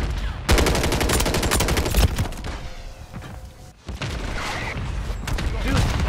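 Rapid bursts of automatic gunfire in the video game Modern Warfare 3, loud and dense, with a short lull partway through before the shooting resumes.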